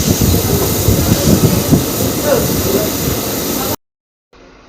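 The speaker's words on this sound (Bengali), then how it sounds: "আমাদের ট্রেনটা কিন্তু এখন আপার লাইনে আছে," Howrah to Haldia special train running on the upper line out of Howrah, a steady loud rumble of wheels on rails with faint clatter, cutting off abruptly into silence near the end.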